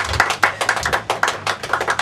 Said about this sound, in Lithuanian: Pradėkite aplodismentais.